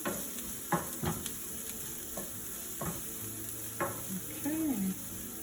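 Garlic sizzling steadily in a frying pan for sloppy joes, a soft continuous hiss broken by a few light scrapes and clicks as it is stirred.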